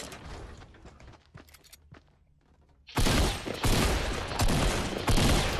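Fortnite gunfire erupts after about three seconds of quiet game ambience: a loud, dense, sustained barrage of rapid shots with no talk.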